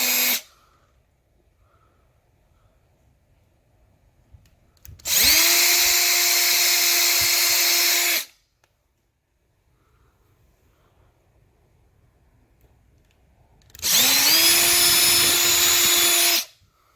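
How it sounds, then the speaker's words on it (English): A power drill bores a hole into a wall while hanging something level, two loud steady bursts of about three seconds each with quiet pauses around them, the motor's pitch rising as each starts up. "you drill a hole in there"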